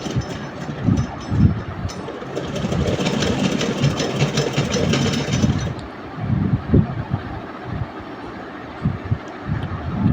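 A sewing machine stitches salwar fabric with a continuous rumbling mechanical whir and rapid rhythmic clatter, close and loud, the pace easing slightly partway through.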